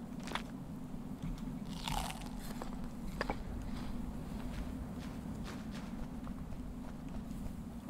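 Crunchy biting and chewing sounds of a character munching food in the survival game Survival: Fountain of Youth, repeated soft crunches over a steady low ambient rumble with no talk.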